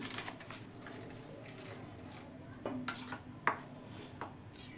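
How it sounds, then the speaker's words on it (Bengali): Cornflour and gram flour batter being mixed with water in a bowl, with soft irregular clinks and scrapes of a spoon against the dish, some sharper taps, close and fairly quiet, with no talking. "2 চামচ কর্নফ্লাওয়ার নিয়েছি, বেসন নেব 2 চামচ, জল দিয়ে গুলবো।"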